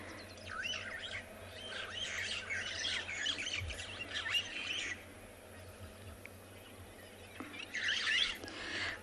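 Starlings chirp and squawk around a dam at sunset on a safari, a faint scattered chorus of busy calls at moderate distance over a low background hum.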